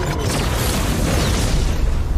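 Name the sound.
explosion blast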